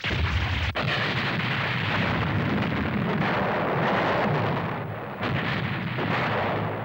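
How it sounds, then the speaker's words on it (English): Heavy, sustained cannon fire with rumbling booms and a sharp blast early on, a dense roaring barrage filling the whole stretch. "Fire the cannon!"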